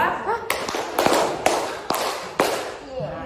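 A group of people claps in unison in a 3-2 pattern: three sharp claps in quick succession, a short pause, then two more. The claps are crisp and close.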